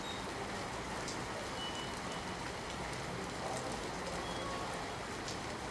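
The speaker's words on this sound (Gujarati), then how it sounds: "સુરતમાં સતત ધોધમાર વરસાદ વરસી રહ્યો છે" Heavy rain pours steadily over Surat, a dense, even hiss of downpour on streets and surfaces that continues without a break.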